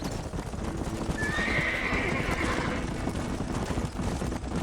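Horses whinny loudly over a steady clatter of hooves in the video game Red Dead Redemption, a single drawn-out neigh rising above the rhythmic clip-clop.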